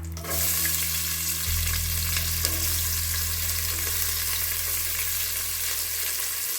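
Onion dropped into hot oil, a loud close sizzle that flares up early and keeps a dense, steady crackle with a low hum behind it, and no voices.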